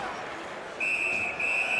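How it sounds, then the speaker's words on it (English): A referee's whistle shrills at an ice hockey game between the Kitchener Rangers and San Jose Barracuda, one long piercing blast with a short break, over steady arena crowd murmur. "Puck covered, whistle blown."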